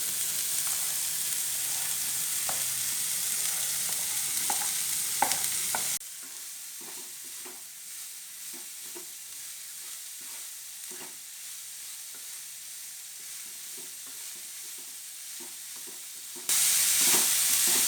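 Chopped carrot and beetroot stir-fried with onions in a pan for a Kerala thoran, a steady sizzle and hiss with scraping stirring strokes. No voices, with the level dropping partway through and rising again near the end.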